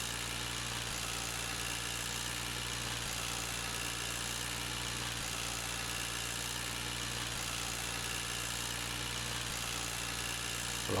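In the Farming Simulator 19 video game, a tractor engine drones steadily while hauling a heavy load through forest, a continuous rumbling hum with a low throb, even and unbroken throughout.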